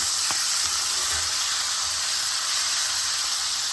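Strip steaks sear in a hot pan with a steady, loud sizzle and hiss throughout, briefly disturbed by a soft clunk as one is flipped early on.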